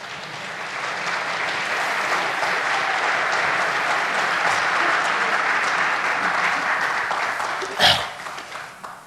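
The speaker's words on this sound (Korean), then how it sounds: "박수를 하지." Sustained applause from an audience at a religious sermon, a broad steady clatter of many hands lasting several seconds before tapering off, with one sharp louder clap near the end.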